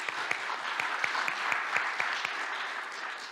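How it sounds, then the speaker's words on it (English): Steady audience applause at a conference opening session, dense clapping with a few sharper claps standing out, moderately loud and sustained without speech. "additional applause to Anatoly"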